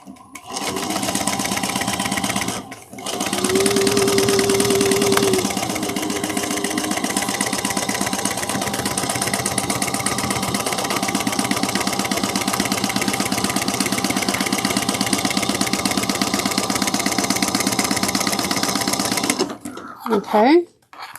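A sewing machine stitches fabric for a tablet clutch, running at a steady hum for almost the whole stretch with a brief pause near the start. A person talks over it.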